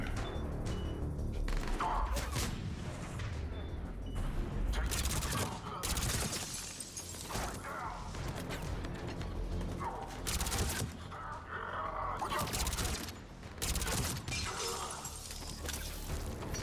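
Rapid, dense gunfire in the video game Mass Effect 3 on Insanity difficulty, with repeated bursts, crashes and impacts filling the whole stretch, loud and close, with voices mixed in.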